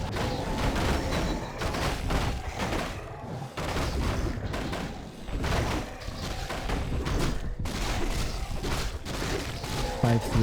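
Mortar teams fire in a Warcraft 3 match amid a dense wash of battle noise, with repeated thumping blasts and booms layered over continuous clatter and a commentator talking throughout.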